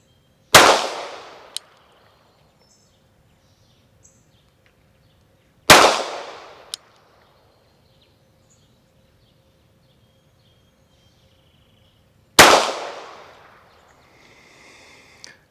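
Three sharp Derya DY9 pistol shots ring out at an outdoor range from 25 yards, spaced several seconds apart, each a loud crack followed by a decaying echo, with quiet between them.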